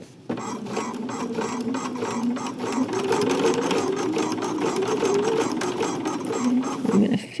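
A home sewing machine top stitching a knit top, running steadily and close with a rapid even needle rhythm throughout, starting after a brief pause.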